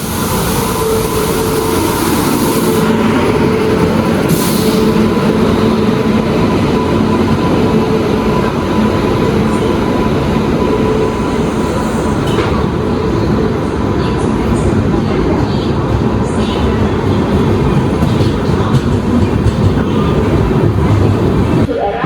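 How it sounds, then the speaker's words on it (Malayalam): A Secunderabad–Thiruvananthapuram Sabari Express passenger train hauled by a P7 electric locomotive rolls past at a station in Coimbatore North, a loud continuous rumble and rattle of carriages with rhythmic wheel clatter filling the whole stretch. "നമ്മുടെ ആദ്യത്തെ വണ്ടി സെക്കന്ദരാബാദ് തിരുവനന്തപുരം ശബരി എക്സ്പ്രസ് ആണേ. ലാലാഗുഡയുടെ ഒരു P7 അതിൻ്റെ ലോക്കോ."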